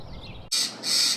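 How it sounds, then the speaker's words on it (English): Two harsh, loud squawks from a blue jay close by in a garden, following a brief stretch of quieter background noise. "Don't listen to the blue jay squawking."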